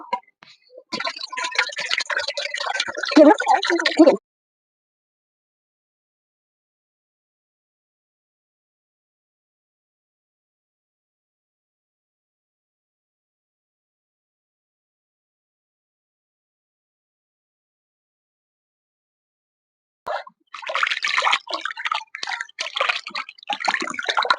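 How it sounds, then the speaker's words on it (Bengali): Raw chicken pieces for a Bengali chicken curry being rinsed in water, heard as two bursts of splashing and running water, each a few seconds long, separated by a long silence. "চিকেন গুলো সব ধোয়া হয়ে গিয়েছে আমি আবারও একবার ভালো জল দিয়ে ধুয়ে নেব"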